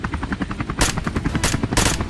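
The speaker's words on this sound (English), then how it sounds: "the sound of the helicopter sent the boars into a wild frenzy" A helicopter flies over a Texas wild boar hunting area, its rotor thumping in a fast, loud, steady pulse, with sharp bursts that sound like gunfire cutting through the rhythm.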